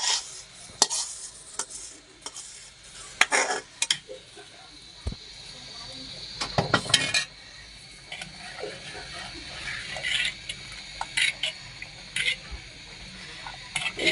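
Caramel poured into milk payesh and stirred in a pot, with intermittent scraping, clinking and bubbling, some louder knocks, and a soft background hiss throughout.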